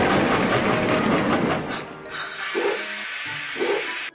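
A toddler circus video game plays a rumbling, clattering train sound effect that fades after about two seconds, followed by quieter chimes and short tones.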